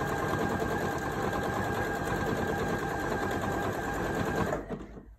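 A Janome 230DC sewing machine stitches at a fast, steady, loud run, its continuous motor buzz and needle clatter holding for several seconds before cutting off abruptly.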